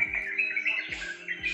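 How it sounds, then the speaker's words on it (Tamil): Birds chirp in trees near the entrance of the National Planetarium in Kuala Lumpur, with quick repeated tweets close by and a thin steady call behind them. "ஸோ இந்த ட்ரீஸ் பேர்ட் சவுண்ட்லாம் கேட்குறதுக்கே மைண்ட் ரிலாக்ஸிங்காக இருக்கு"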